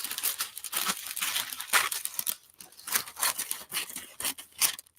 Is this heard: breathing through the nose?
no